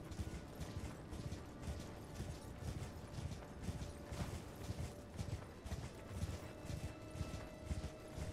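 Hooves beat in a fast, steady galloping rhythm as a horse runs in the Elden Ring video game, faint and continuous under a low mechanical background hum.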